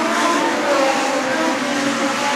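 Legend cars racing around an oval racetrack during a green-white-checker finish, a dense, steady roar of engines at high revs that fills the whole stretch with no break or talk.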